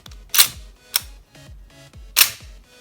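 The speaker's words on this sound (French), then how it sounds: "je vais vous faire écouter le bruit de la culasse, avec l'arrêteur de culasse et comment elle tire" An Army Armament R32 airsoft gas pistol, bolt cycled and dry fired: four sharp close metallic clacks, each with a short springy ring, spaced irregularly and heard alone.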